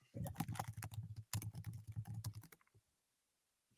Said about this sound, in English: I love hearing the typing.